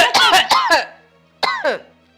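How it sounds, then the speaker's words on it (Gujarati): A quick burst of several harsh coughs in a row, then a pause and two more coughs, close and loud. "તારી વાત સાંભળીને છે ને મને ખાંસી આવવા માંડી છે"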